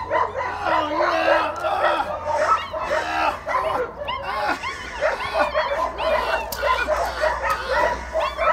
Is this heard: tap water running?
no